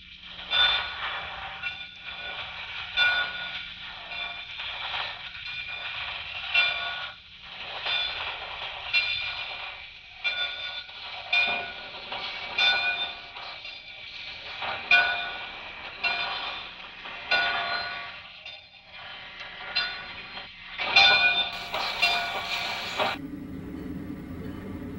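Grand Trunk Western passenger train 15, led by locomotive 6330 and arriving from Montreal and Toronto, rolls in with steady rhythmic clickety-clack of wheels over rail joints, a constant engine drone and squealing brakes near the end.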